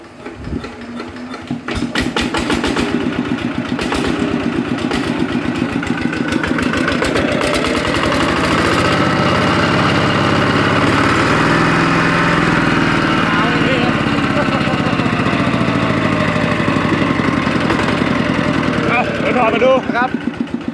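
A Yanmar RT140 small diesel engine upgraded to a genuine 155 runs loud and steady with a throttle held up, a rough continuous mechanical drone with gear noise, and people talk over it.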